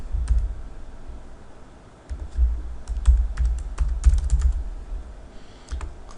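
Bursts of typing on a computer keyboard, close and crisp, with irregular clusters of key clicks separated by short pauses; no one speaks.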